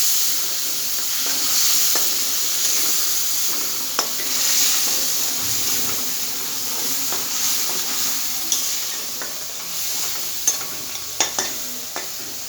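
Mustard paste sizzles and steams in a pan with softened young hog plums while a spoon stirs, a steady frying hiss punctuated by occasional clinks and scrapes, close up and without speech.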